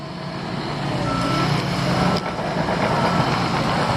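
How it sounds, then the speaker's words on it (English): A dump truck on a construction site backs up with its reversing alarm beeping steadily over a loud, continuous diesel engine rumble and site noise. "We got more dump trucks down here waiting for dirt."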